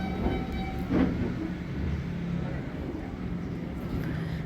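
A tram climbing Phra Nakhon Khiri hill rumbles steadily from on board, with a continuous low mechanical drone and faint rattles, while people talk nearby.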